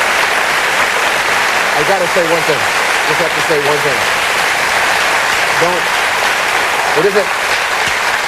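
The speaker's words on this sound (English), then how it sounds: "I would feel very guilty if I walked out of here and you thought this applause was just for me." Loud, sustained studio audience applause fills a late-night talk show stage, with someone speaking over the continuous clapping in short bursts.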